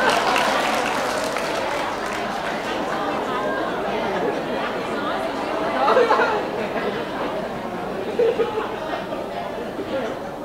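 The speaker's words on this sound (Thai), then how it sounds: "ขอเสียงปรบมือนะครับ" Audience applause and crowd chatter after a Hawaiian-themed performance at an event, a steady wash of clapping mixed with voices that swells slightly about two-thirds through.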